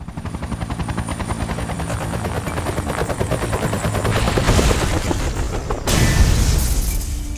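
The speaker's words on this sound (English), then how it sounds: "Scully arrive with the helicopter, however, instead of landing, it crashes into the ground" Helicopter crashing into the ground in The X-Files survival horror video game: a loud steady rotor drone with dense rhythmic chopping builds, then a sudden heavy impact rumble near the end, with no talk.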